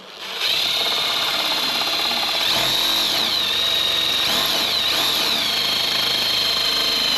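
Power drill whirring steadily through a Harley Davidson motorcycle fairing, a loud continuous high whine that dips and rises in pitch a few times as the bit bites, running alone without talk.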